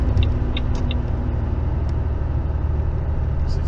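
A heavy truck engine drones steadily as it climbs the Serra do Cafezal hill in tenth gear with the turbo working, a constant low rumble heard from inside the cab.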